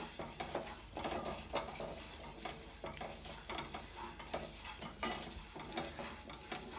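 Cumin seeds with coriander fry in hot oil, crackling with a quiet, continuous sizzle punctuated by frequent light stirring scrapes against the pan.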